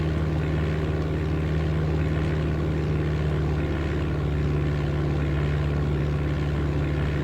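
Steady propeller-aircraft engine drone in the flight game Flight Simulator 95, a loud, continuous hum with a fixed tone and no talking, holding constant throughout.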